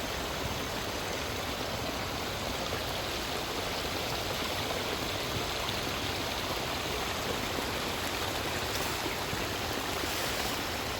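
River water rushes steadily below the Kombanpara check dam on the Chalakudy river in Kerala, a broad, even hiss of flowing water with no breaks and no voices.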